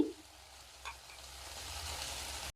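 Cumin, ginger and green chili pastes fry in a pan for a fish curry, producing a soft, steady sizzle with a brief stir partway through that ends in an abrupt cut.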